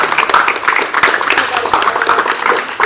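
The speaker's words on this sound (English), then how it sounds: "give him a round of applause, man" Applause for a guest, a dense run of many hands clapping at a steady loud level for about three seconds with no pauses, as though from an audience filling a room.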